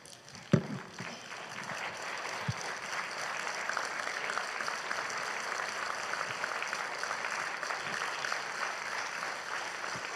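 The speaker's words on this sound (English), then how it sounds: "Can we all stand and give the faculty and staff and administration a round of" Round of applause for faculty and staff at a technical school graduation, starting with a sharp thump and a few scattered claps, then building into steady crowd clapping from a fairly distant audience.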